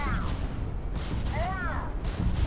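Gunfire in the video game Starfield, with a heavy rumbling barrage and booming shots filling the scene beneath shouted voices.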